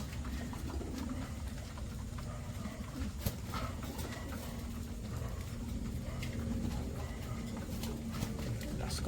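Pigeons kept in a breeder cage coo and rustle at close range, soft repeated calls over a steady background hum with occasional small knocks and wing movements.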